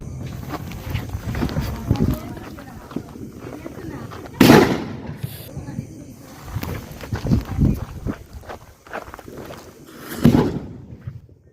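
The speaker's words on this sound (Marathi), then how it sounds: "आता हे सुतळी बॉम्ब आणि रॉकेट सोडू, जरा हे फोडू आता." Sutli bomb firecrackers and rockets set off outdoors, giving a few loud sharp bangs spaced several seconds apart over a crackling, busy background, with people talking nearby.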